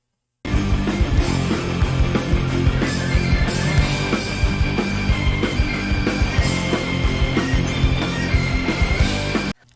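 A band covering a rock song plays loud and dense, with piano in the mix alongside drums and guitars, steady throughout with no talking.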